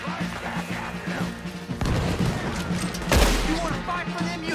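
Heavy gunfire and cannon blasts from a Red Dead Redemption 2 battle, with dense volleys of rifle shots and a deep booming cannon impact about three seconds in, loud and continuous throughout.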